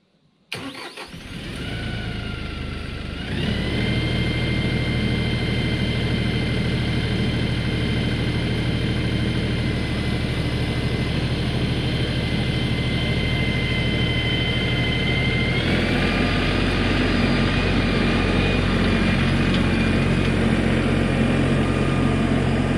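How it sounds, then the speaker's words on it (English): A tractor engine cranks and catches, then settles into a steady, loud idle that keeps droning with a slight rise in pitch partway through, with no talking over it. "let's get this tractor started up, and we'll get on the dirt here and start breaking this stuff up"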